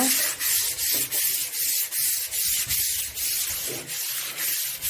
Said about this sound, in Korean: 220방 고운 사포를 날을 조금 죽여서 사포할게요